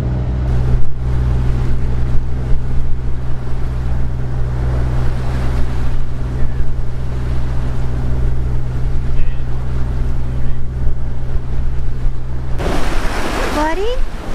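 A sailboat motors at sea under engine power, a steady loud engine drone with water and wind noise running throughout, and a brief burst of splashing near the end.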